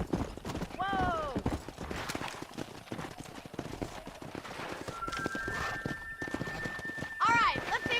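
Horse hooves clip-clop at a steady walking rhythm in the Red Dead Redemption video game, with a rider murmuring to the animal and a brief whinny breaking through near the end.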